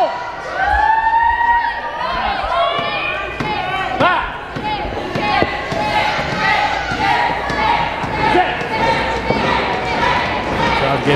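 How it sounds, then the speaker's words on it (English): A wrestling crowd at a Big Valley Wrestling championship match cheers loudly and continuously, a dense roar of voices with scattered shouts and thuds, while an announcer talks over it. "Crowd getting behind Shade to give him some support to getting up and out"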